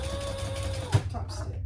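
A sewing machine runs steadily, stitching a bag, its fast mechanical chatter holding an even rhythm at close range, with one brief knock partway through and a voice talking faintly underneath.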